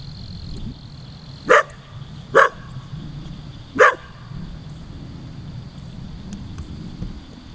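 A big dog barks three sharp times outdoors near a fence, spaced over a few seconds, against a steady wash of wind noise.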